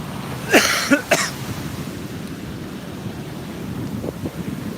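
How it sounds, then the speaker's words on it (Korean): Sea waves surge onto a shore in a steady washing rumble under heavy wind buffeting the microphone, with a few coughs early on. "또 파도 여기 많이 밀려온다"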